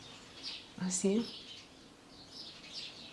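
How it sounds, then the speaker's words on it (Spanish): Small birds chirp around a rustic country house in Menorca, giving a few quick bright tweets at a moderate distance. A short spoken word cuts in over them, and faint calls continue afterward. "Solo se oyen pajaritos."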